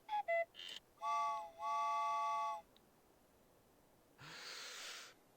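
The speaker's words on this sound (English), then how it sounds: "and the train whistle" A train whistle in a Winnie the Pooh video game: a few quick chirpy toots, then two sustained, bright whistle blasts, followed later by a short breathy hiss.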